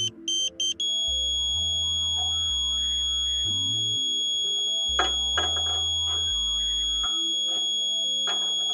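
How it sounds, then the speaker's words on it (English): A Ka-sat PRO satellite finder sounds a steady, continuous electronic alignment tone, with short beeps at the start and a pitched buzzing that shifts in steps underneath. "Very slowly, until you hear the continuous tone."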